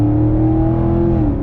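A 2017 Camaro 2SS's engine roars loud and close in one steady, rising pull, with a strong low rumble and no voices.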